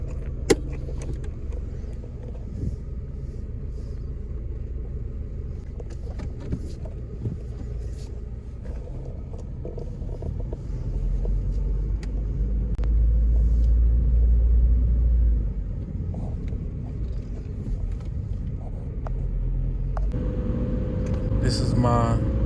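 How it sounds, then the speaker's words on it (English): A 1998 Honda Civic EK sedan cruising at night, heard from inside as a steady low road and engine rumble, swelling midway, with someone talking over it and small clicks and rattles in the cabin. "This is my 1998 Honda Civic sedan."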